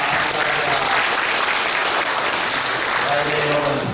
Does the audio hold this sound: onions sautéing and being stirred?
no